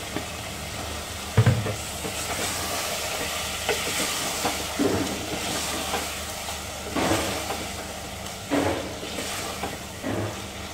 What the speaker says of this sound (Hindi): पांच मिनट तक इसी तरह से हिला हिला कर मसाले को भून लेंगे।